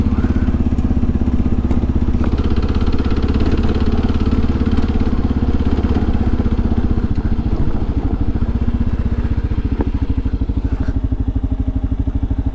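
Royal Enfield Himalayan and KLR650 motorcycles riding over remote desert terrain at Gold Butte, a steady, close, pulsing single-cylinder engine thrum that eases slightly toward the end.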